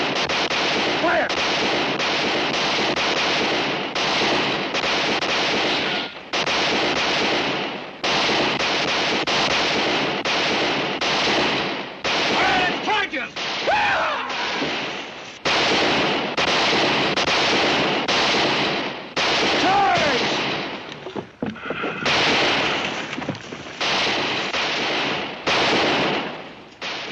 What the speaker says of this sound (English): Stop running and keep firing! These good old Winchesters.